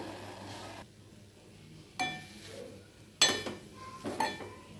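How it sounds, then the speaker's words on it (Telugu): A lid set onto a cooking pot gives a few sharp metallic clinks close by, spaced across a few seconds over a low kitchen hum, while tamarind-free gram flour cooks inside. "మూత పెడతాను."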